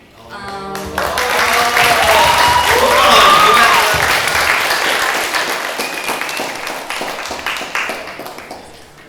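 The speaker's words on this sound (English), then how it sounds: "Let's give another big round of applause for the co-host, for the main host" A large audience at a summer retreat panel session bursts into sustained applause, dense clapping swelling to a peak and then slowly thinning out, with a few voices and cheers scattered through it.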